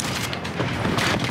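Gunfire in the shooter game Black Ops 4, a dense, continuous stretch of rapid shots and booms at steady loudness with no talk over it.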